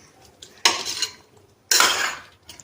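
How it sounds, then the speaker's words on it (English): A spoon scrapes and stirs chicken gravy in a metal pot during biryani cooking, making two loud, close bursts of scraping with faint sizzling between them, and no talk. "Now mix it well and allow it to cook."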